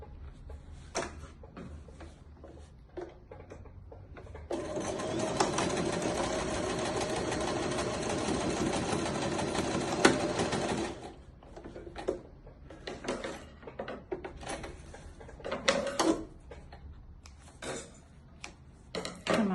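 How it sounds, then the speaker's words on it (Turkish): A sewing machine stitches the edge of a kangaroo pocket in one steady, loud run of about six seconds. Fainter, uneven handling clicks and fabric rustles come before and after it. "diğer kenarını da dikiyorum."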